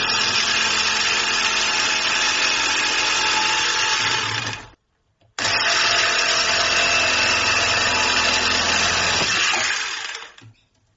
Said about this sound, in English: I think given the fact the saw is a bit easier to control around those edges because it's narrower, then I think I'm going to start with that.